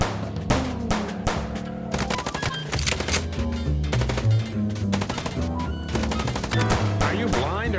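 Rapid gunshots from the Chicken Police video game, loud repeated bursts of automatic fire with a steady rhythm over a driving music track.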